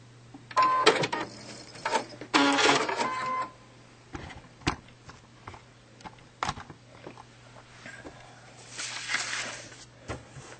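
A sewing machine stitches a couple of stitches past the end of a quilt heart block in short whirring bursts, followed by sparse clicks and small handling sounds over a faint steady hum.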